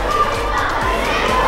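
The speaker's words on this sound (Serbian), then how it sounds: "To je ta napeta masa," A dense crowd of excited children packs a vlogger's live show in Kragujevac, and their loud, continuous shouting and chatter fills the brief moment.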